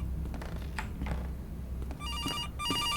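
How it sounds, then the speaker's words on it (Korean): A telephone rings in the CASE Animatronics first-person horror game, with a repeating electronic trill that starts after two seconds over low game ambience, with no talk. "전화 온다"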